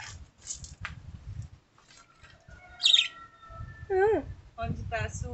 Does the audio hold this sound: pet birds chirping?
yes